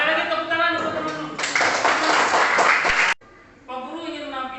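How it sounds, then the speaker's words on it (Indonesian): Students clap together in a classroom after group presentations, a burst of applause lasting under two seconds between a teacher's spoken remarks. "Sekali lagi tepuk tangan untuk teman-teman."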